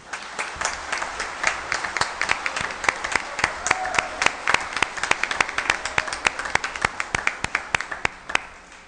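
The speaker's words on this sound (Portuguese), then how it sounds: "eu peço novamente uma salva de palmas para eles" Applause from the audience at a Black Consciousness Day commemorative session honoring several people: dense, steady clapping with sharp individual claps standing out, sustained for several seconds before fading near the end.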